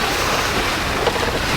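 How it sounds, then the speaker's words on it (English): Ocean waves wash and rush continuously around a sailing boat underway off Raja Ampat, with steady wind noise buffeting the microphone and no talk. "It's so much nicer to be out here on the water with some breeze."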